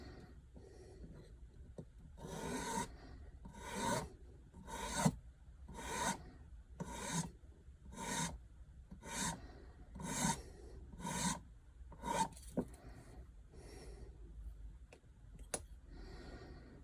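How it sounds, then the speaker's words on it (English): A fairly coarse file rasps the moulded nose pads off a plastic glasses frame in about a dozen even back-and-forth strokes, close and rhythmic, with short pauses between passes. "This is done by filing them with a fairly coarse file."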